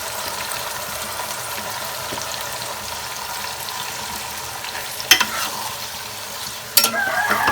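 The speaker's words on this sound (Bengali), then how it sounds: "আমি এই মাংসগুলো ভালোভাবে কষিয়ে নেব" Continuous sizzling of chicken being stir-fried in a hot pan, with two sharp clanks of a spoon against metal near the end, no voices.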